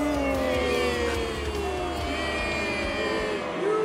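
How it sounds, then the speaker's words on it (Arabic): A crowd at a cartoon football match chants and shouts against the Matador player, a dense, loud, sustained roar of voices with wavering cheers throughout. "الجمهور يهتف ضد اللاعب الماتادور الآن"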